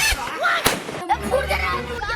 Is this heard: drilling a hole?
no